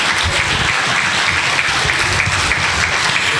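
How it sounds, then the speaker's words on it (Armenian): An audience at a children's vocal studio concert applauds the young performers with dense, loud, continuous clapping from start to finish. "եկեք եւս մեկ անգամ բարձր ծափահարենք մեր տաղանդավոր"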